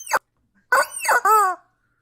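Rubber chicken dog toy squeaked in a few separate honking, wheezy bursts, one short then two longer, close and fairly loud with no talk over it.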